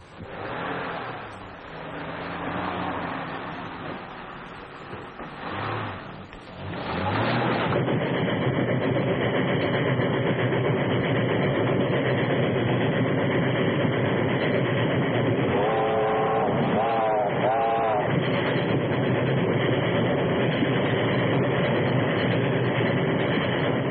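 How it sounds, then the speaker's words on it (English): A train rumbles past with a loud, continuous roar and clatter, brief squealing tones partway through, and no talking. "That's the train."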